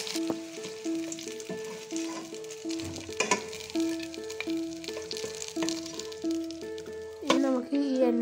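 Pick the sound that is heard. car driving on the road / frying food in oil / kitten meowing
frying food in oil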